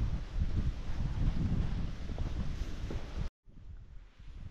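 A cool wind sweeps across an open farm field, a steady roar of rushing air buffeting the microphone. It drops out abruptly for a moment near the end, then resumes more softly.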